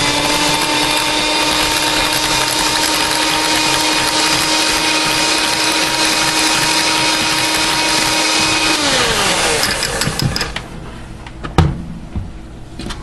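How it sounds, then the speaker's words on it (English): An electric hand mixer beats farmer's cheese in a home kitchen, a loud steady whir that holds for about nine seconds, then winds down and stops with a few clicks and knocks. "Let me hit that with the mixer one more time here."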